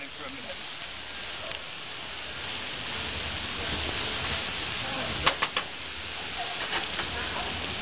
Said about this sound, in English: so we'll just leave that browning for a minute